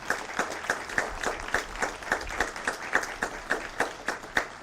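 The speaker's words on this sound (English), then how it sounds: "Please give them a round of applause." Audience applause at a Congressional Gold Medal award ceremony, heard as a modest, fairly sparse run of individual claps with a steady rhythm, moderately quiet and without talk over it.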